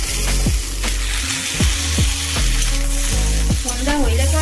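Maggi noodles frying and being stirred in a pan, a steady close sizzle broken by repeated scraping stir strokes, with no talk.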